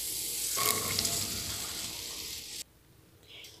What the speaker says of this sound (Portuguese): Agora vamos estar colocando o andu aqui na panela.